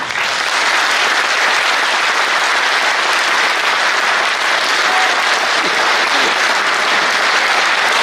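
A large crowd at an Indian political rally bursts into loud, sustained applause, a thick unbroken roar of clapping that holds steady from start to finish.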